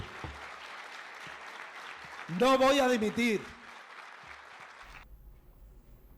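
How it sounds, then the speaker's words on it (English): Audience applause at a Spanish football federation assembly runs steadily under a man's speech, with a louder burst of cheering and voices near the middle before it fades. "And you see the applause."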